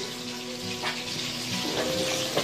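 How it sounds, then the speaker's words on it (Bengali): Fish sizzles and spits in a hot pan in a home kitchen, a steady close crackle with light scraping and no voices. "এখানে মাছ ভাজা চলছে"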